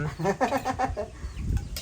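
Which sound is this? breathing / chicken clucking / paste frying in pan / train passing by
chicken clucking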